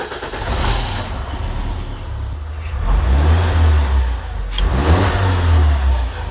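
A BMW E46 Compact engine runs close by after a five-year lay-up, with a steady low rumble that swells into a few gentle revs and settles back between them.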